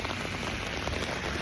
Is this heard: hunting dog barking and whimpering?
no